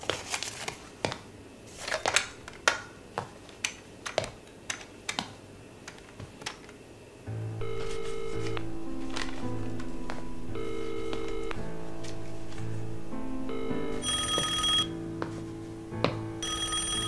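A telephone is dialed to place a call, first a run of sharp, scattered clicks for several seconds, then a steady sequence of electronic tones and beeps, close and clear with no talking.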